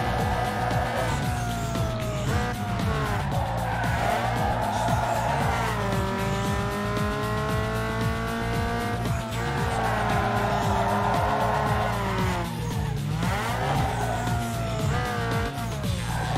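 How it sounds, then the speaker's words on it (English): A Toyota Celica drifts in the racing game Need for Speed Underground 2, its engine droning loud and steady while tires squeal in long sliding tones that rise and fall, with music running underneath. "Let's see how the engine is going to perform in the drift now"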